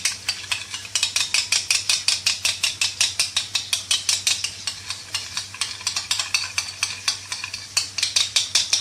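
Yogurt being whisked in a small bowl for a malai chicken curry, a fast rhythmic run of sharp clicking strokes against the bowl, close and steady, over a faint low hum.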